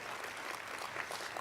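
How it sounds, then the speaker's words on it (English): Audience at a community engagement conference breaks into steady, dense applause, a brief continuous burst of clapping filling the room. "well, you can applaud that, that's a good thing."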